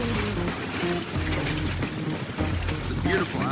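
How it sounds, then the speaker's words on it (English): Water sloshes and laps steadily in a harbor on Kos, Greece, with a low, rumbling wash throughout, waves churning in from departing boats. "Got some waves coming in from where boats just went out."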